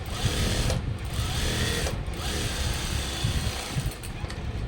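A sewing machine stitches the neckline of a blouse with a steady fast mechanical chatter and low motor hum, running close and continuous with brief slight dips.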